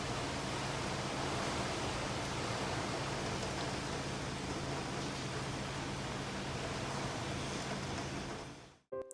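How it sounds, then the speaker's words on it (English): Steady fall rain pours down in a continuous, even hiss that fills the whole stretch, loud and close with no voices, cutting off abruptly near the end. "I sense the calming of fall rain coming, a sign that the season is changing."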